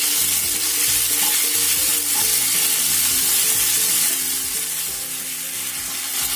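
Chicken and daun bawang fry in a pan with a steady, bright sizzle while a utensil stirs and scrapes in an irregular rhythm, close and continuous.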